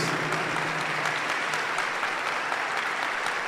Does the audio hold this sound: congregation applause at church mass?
yes